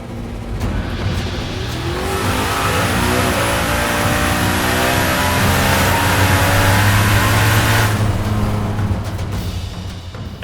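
A drag race car run with no gauges or shift lights, launching hard with a loud roaring engine that climbs through rising revs for several seconds before easing off, close and dominant with no talking.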